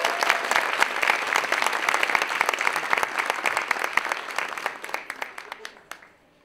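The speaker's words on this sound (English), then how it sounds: "Please give another round of applause for Jessica Skibo." An awards ceremony audience claps for an award winner, a dense round of many hands that holds steady, then thins out and fades to silence near the end.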